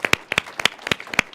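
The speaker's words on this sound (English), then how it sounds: "can we just give this group a round of applause" Audience at a NASA iTech entrepreneur event at the Space Symposium in Colorado Springs claps, with a few sharp, distinct hand claps standing out in a loud, close burst.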